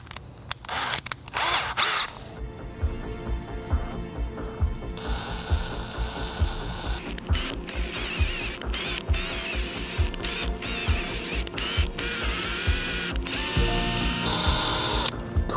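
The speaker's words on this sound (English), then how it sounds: "I'm actually gonna drill the same hole in the opposing side. So these two holes line up, which is great, and one of them needs to get tapped." A drill bores a hole, then a 3 mm tap cuts threads into it: loud, close mechanical whirring and grinding with ratcheting bursts, stops and restarts, with no voices.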